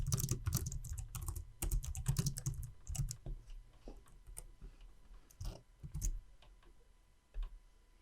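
Keys clatter on a computer keyboard during Excel work, a quick run of close, sharp clicks with short pauses between bursts, alone without talk.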